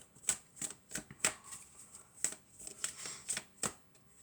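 Tarot cards shuffled close by in a quiet room, a series of soft, crisp riffling bursts coming in an uneven rhythm, about ten distinct flicks over a few seconds.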